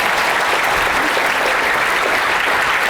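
An audience at a book concert breaks into loud, dense applause to welcome the next speaker, steady clapping from a large crowd filling the room without letup.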